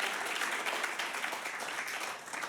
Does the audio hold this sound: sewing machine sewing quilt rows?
no